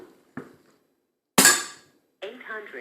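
A regulated Air Arms S200 .177 air rifle firing RWS Hobby 7 grain pellets gives a single sharp, loud crack, preceded by a faint mechanical click and followed by a short burst of nearby speech.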